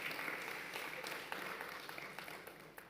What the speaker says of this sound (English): really give another round of applause to the Vice-Chancellor.